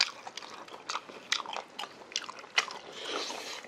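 Someone bites and chews LA-style beef short ribs, giving close, moist crunching and tearing sounds in irregular bursts with soft smacking between them.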